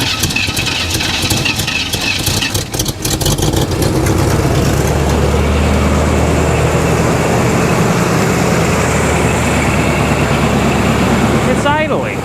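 A Chevrolet Monte Carlo SS, abandoned for 20 years with rust and insect nests inside, idles loudly and close with a rough, steady rumble after starting, with voices at times over the engine.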